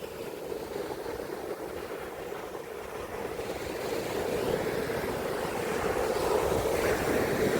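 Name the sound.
sea waves crashing on Revdanda beach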